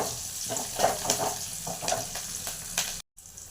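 Gongura (sorrel) leaves dropped into hot oil with chilli, coriander and curry leaves in a pan for chutney: a close, steady sizzle and frying crackle with stirring scrapes, briefly cut off near the end, no talking.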